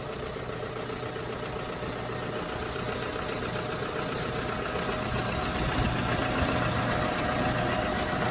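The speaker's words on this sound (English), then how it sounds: "Machine has a Cummins engine" The Cummins diesel engine of a 2018 Epiroc FlexiROC T30R drill rig idles steadily at a low, rumbling pitch, constant and moderately loud with a faint mechanical knock, no voices.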